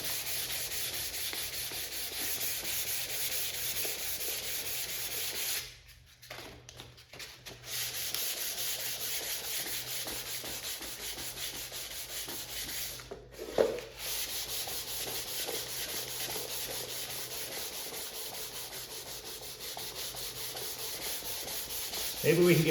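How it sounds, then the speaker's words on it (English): DA sander working over an arcade cabinet during a Qbert restoration, a steady close rubbing, whirring grind that runs almost throughout, with two brief pauses and a small knock partway. "When you use the DA sander, it's a spinning motion, which puts circles into it."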